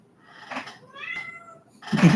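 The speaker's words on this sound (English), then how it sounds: "he did join the broadcast by meowing" A cat meows a few times up close, short rising calls, the last one louder and more insistent.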